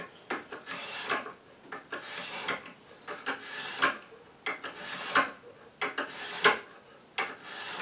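A kitchen knife is sharpened on a Lansky deluxe sharpening system, with steady rhythmic raspy strokes of the hone across the blade repeating about every second, close and clear, with no speech.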